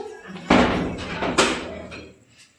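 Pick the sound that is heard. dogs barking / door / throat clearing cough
door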